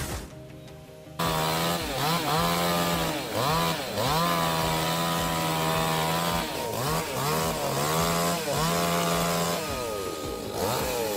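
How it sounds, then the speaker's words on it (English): A loud, close chainsaw cuts into a tree, its engine surging and easing again and again as the blade bites in, after a short quieter idle at the start. "I think the chainsaw will tell you."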